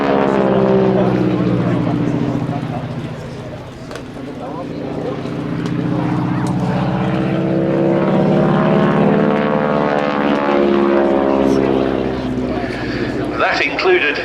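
A North American AT-6C Harvard IIA propeller plane drones loudly and steadily at an air display, its engine note rising and falling as it passes, with a brief dip midway.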